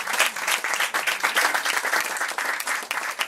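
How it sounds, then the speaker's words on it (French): Audience applause at a slam poetry evening, a continuous crowded patter of clapping held at a steady moderate level throughout. "alors ça mérite beaucoup d'applaudissements."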